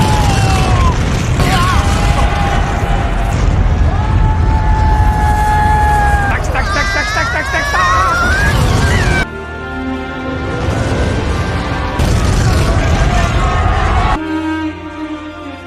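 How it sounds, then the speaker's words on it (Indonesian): A giant overheated machine blows up in a film battle between ghosts and an evil force: loud, dense booming and crashing with mechanical rumble and sharp bursts, sustained and roaring, cutting abruptly to different scenes partway through. "bersamaan dengan mesin raksasa yang sekarang dalam keadaan panas, dan kemudian meledak"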